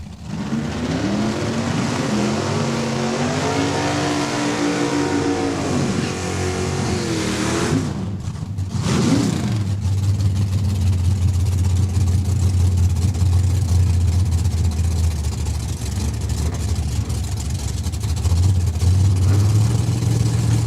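Drag race cars at Saskatchewan International Raceway accelerate down the strip, a loud engine roar rising in pitch through the gears, then a short pause before a deep, rumbling engine drone builds again.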